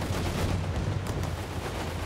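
A continuous rumbling barrage of booms and blasts fired by American tanks in Company of Heroes 3, a dense, steady wall of loud explosive impacts with no clear pauses.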